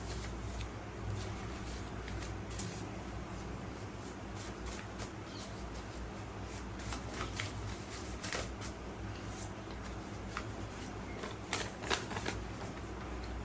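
Tarot cards are shuffled close to the microphone, making a quiet, continuous stream of soft riffling, flicking and slapping with irregular sharper snaps, and no voice.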